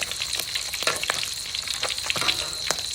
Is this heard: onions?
yes